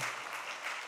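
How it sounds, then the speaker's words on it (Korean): A church congregation applauding to welcome returning members, a brief even patter of clapping from many hands, moderately soft and steady. "박수로 환영해 주기 바랍니다."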